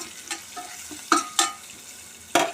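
A tempering of dried red chillies for a chickpea dish fries quietly in a pan, with a faint sizzle broken by three or four sharp spoon clinks against the pan.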